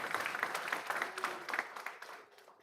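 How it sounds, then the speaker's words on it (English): Applause from the audience at a school board meeting greets a state champion athlete, a moderate patter of clapping that fades toward the end. "Give him a round of applause."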